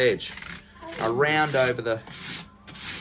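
Scratchy back-and-forth rasping of 120 grit sandpaper rounding over guitar fret ends, close and fairly loud, with someone speaking briefly over the strokes.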